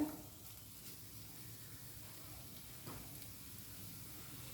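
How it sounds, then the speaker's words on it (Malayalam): Carrot chutney sautés in a pan over a raised flame, giving a faint, steady sizzle and hiss throughout with no talking. "ഇനി ഫ്ലെയിം കൂട്ടി വെച്ചിട്ട് ഒന്ന് വഴറ്റി കൊടുക്കാം"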